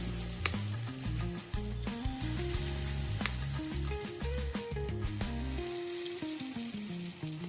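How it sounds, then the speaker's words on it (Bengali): Bengali-style egg and lentil fritters (dim dal bora) sizzle and crackle steadily in hot oil, close and continuous, with faint background music and no voices. "এক পাশ আমার লাল লাল করে ভাজা হয়ে গেছে, আমি আর এক পাশ লাল লাল করে ভেজে নেব।"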